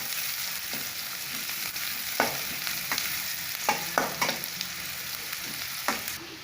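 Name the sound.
sliced onions and curry leaves frying in a pan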